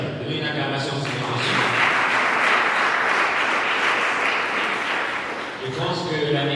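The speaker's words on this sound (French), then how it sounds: "Donnez une acclamation au Seigneur." A church congregation bursts into sustained applause and cheering during a Sunday service, a dense roar of many hands that swells and holds for several seconds before fading as a voice returns.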